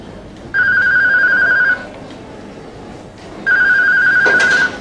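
A telephone rings twice indoors, each ring a loud, sustained electronic trill about a second long, separated by a pause of quiet room tone.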